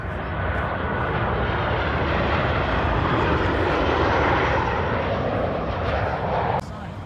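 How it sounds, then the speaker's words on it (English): An American Airlines passenger plane flies past outside an aircraft museum, its engine roar a loud, steady broadband rumble that holds for several seconds before dropping off near the end, with people talking underneath. "here comes an American Airlines plane."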